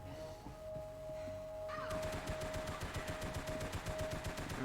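Automatic gunfire from Max Payne 3 multiplayer rattles in a rapid, even burst of shots after a quieter start, loud and continuous with no talking.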